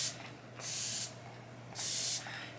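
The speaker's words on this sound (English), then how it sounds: "I picked up the brand new Neutrogena setting spray" Two short, close hissing spritzes from a Neutrogena setting spray bottle, separated by about a second of quiet.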